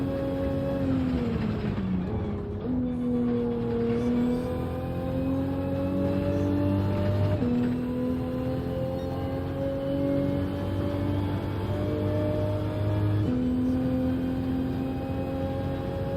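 A car engine hums steadily and drones upward through its gears, with three distinct shifts where the pitch drops and then climbs again, loud and close throughout with no talk.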